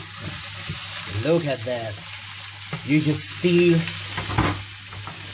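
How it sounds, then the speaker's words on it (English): A 700-gram rib-eye steak sears in a hot pan with a constant sizzle while it is turned with a fork near the bone; someone talks over the frying. "now you can use a fork very close to the bone just to turn it over"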